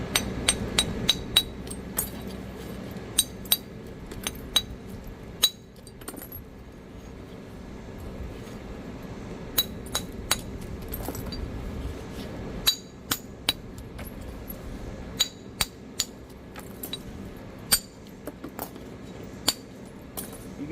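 Flint knapping on a biface stone tool beside a lake near the Buffalo River, sharp stone-on-stone clicks and taps landing in irregular bursts close by over a steady outdoor background.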